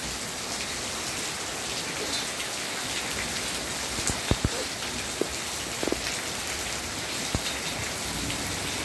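Steady heavy rain pours down in a dense, continuous hiss, with occasional sharper drips and splashes standing out now and then.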